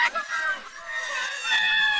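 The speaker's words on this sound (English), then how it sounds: "Now everybody let me hear you scream!" Riders on the Hulk roller coaster at Islands of Adventure scream in a shrill, high chorus of overlapping voices, sustained and rising over two seconds.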